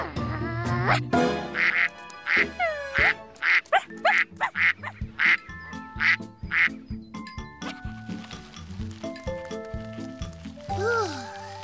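Cartoon ducks quack in a lively string of calls over light background music, fairly close and prominent throughout.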